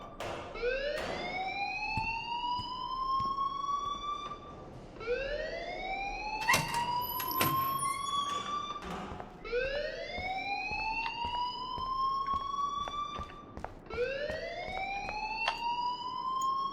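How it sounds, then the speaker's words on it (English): A rising, whooping electronic alarm sounds in the video game Life is Strange, repeating steadily about every four seconds with loud sweeping tones and scattered game noises around it, without speech. "please turn off that alarm since that's your job"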